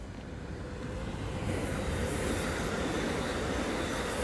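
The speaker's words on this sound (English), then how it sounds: "I heard another train racing toward me" A train rumbles steadily toward the listener near Los Angeles Union Station at night, a broad continuous roar of rolling wagons that swells slightly after the first second and holds loud to the end, with no voices.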